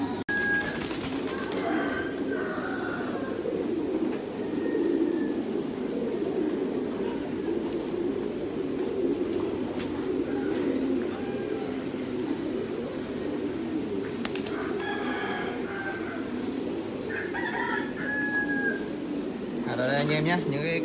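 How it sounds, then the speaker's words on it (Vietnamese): Thai pigeons at a breeding farm coo in a low, continuous, throaty chorus throughout, close and steady, with occasional higher chirps over the top and no clear talking. "mình sẽ nói rõ cái giống bồ câu Thái và bồ câu Trung Quốc cho các bạn nghe"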